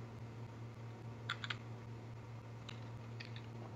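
Short bursts of clicking keystrokes on a computer keyboard during a Minecraft session, two brief clusters of taps heard faintly over a steady electrical hum.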